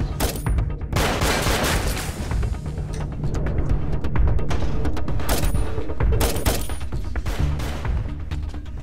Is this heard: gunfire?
yes